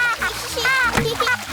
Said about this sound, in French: mais n'éclabousse pas autant